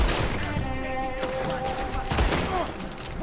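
A rapid fusillade of gunfire in the Western game Red Dead Redemption 2, dense overlapping shots amid a busy mix with a voice talking over it.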